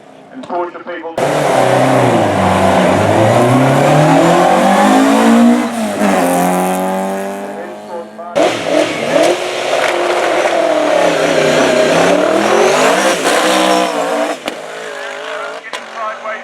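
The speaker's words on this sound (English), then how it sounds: "Getting sideways in second gear, into third, back into second gear." A Porsche at a street sprint event revs hard through the gears, its engine note climbing in sweeping rises, cutting off at the shifts and climbing again, loud and close, with a brief tyre squeal as it slides sideways.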